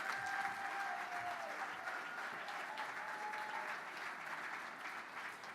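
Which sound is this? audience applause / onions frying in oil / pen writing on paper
audience applause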